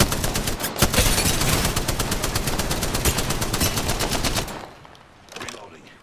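Rapid automatic gunfire in Apex Legends, loud sustained bursts of closely spaced shots for several seconds, then cutting off to quieter game sound with a short later burst.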